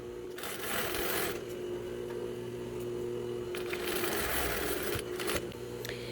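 A sewing machine stitches stretch fabric with elastic, running faintly in short bursts that start and stop several times.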